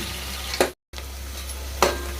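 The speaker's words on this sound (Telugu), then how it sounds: "కొంచెం వేగింది కదా ఇప్పుడు వచ్చేసి పచ్చిమిర్చి వేసుకుంటున్నాను" Green chillies sizzle in hot oil with browned onions in a pan while cooking mushroom biryani, a steady close frying hiss with a couple of stirring bursts and one brief dropout, no talking.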